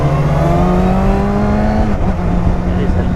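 Kawasaki Ninja 636 motorcycle engine on a stock exhaust, a steady loud mechanical drone with sustained harmonic whine that shifts pitch partway through, with a voice talking over it.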